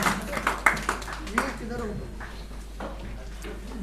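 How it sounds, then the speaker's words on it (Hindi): An audience at a national conference on social and educational awareness claps in a few scattered, uneven bursts while a voice talks over them, with the clapping fading into the background. "तालियां बजाते रहिए"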